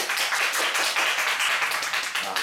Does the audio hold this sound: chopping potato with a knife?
no